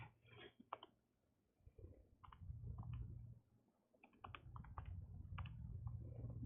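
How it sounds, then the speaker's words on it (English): Fingers type on a computer keyboard in quiet, close bursts of rapid clicking separated by short pauses. "I'm going to type this in so you guys can keep writing here"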